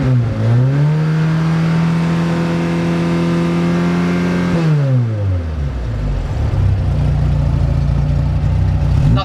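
A Triumph TR4 engine, running freely, revs up and holds a steady high note for several seconds, then falls back to a rough, lumpy idle; loud and close with no talking.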